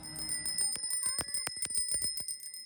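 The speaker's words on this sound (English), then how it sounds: "every time a bicycle bell rang" Bicycle bells on more than 250 bicycles ring repeatedly in quick, irregular succession at a cafe event, bright metallic dings overlapping over a low crowd murmur.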